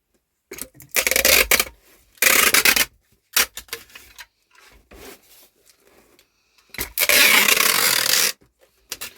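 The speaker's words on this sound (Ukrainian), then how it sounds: "тепер стягую скотчем" Packing tape is pulled off the roll and pressed over a cardboard egg box holding Cochin hen eggs for shipping, in bursts of loud ripping and rasping with shorter rubbing and crinkling between, close up with no talk.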